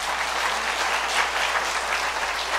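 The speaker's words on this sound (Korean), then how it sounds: "박수 한번 쳐주시고요." A church congregation breaks into applause, a dense, even wash of many hands clapping at once, loud and close, lasting a couple of seconds with no voices on top.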